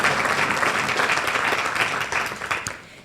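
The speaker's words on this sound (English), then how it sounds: "Please give all of our panelists another round of applause." An audience claps for a panel of speakers after a debate on free higher education. The applause is steady and moderately loud, then tapers off over the last second.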